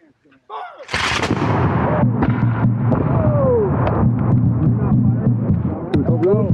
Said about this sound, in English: Battalion volley, that's everyone!